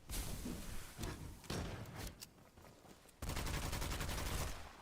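Rapid gunfire from the video game Witchfire, shooting at enemies: loud, sharp bursts of shots come in quick clusters with brief lulls, then a denser, sustained volley near the end.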